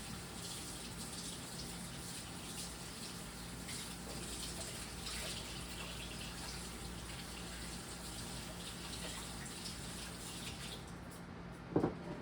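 Kitchen tap running steadily while hands are washed during dinner prep for kale salad and meatballs, a faint even water hiss with a brief clunk at the end.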